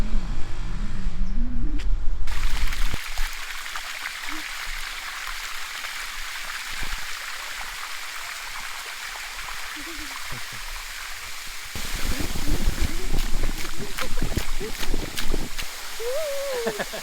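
Sticky waterfall in Kanchanaburi, Thailand: steady broadband rushing of water over rock steps runs throughout, with brief voices near the start and end and louder splashing near the close.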